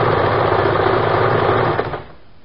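A sewing machine hums loudly and continuously as it stitches the double-folded hem of palazzo pants, then slows and stops near the end.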